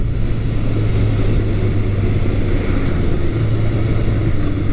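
A 1982 Suzuki GS750E motorcycle engine, not yet fully warmed up and with a slight misfire at 4,000 RPM, runs as a loud, steady, close droning hum with no clear revving.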